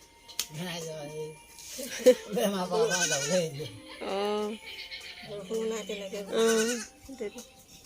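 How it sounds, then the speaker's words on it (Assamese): A female goat bleats repeatedly and close by in a village yard kept with chickens, with several wavering cries separated by short pauses. "ছাগলী"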